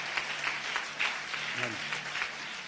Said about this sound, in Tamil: திவ்ய சமாதானத்துக்கா ஜோர ஒரு கைத்தட்டு கொடுத்துருங்க பார்க்கலாம்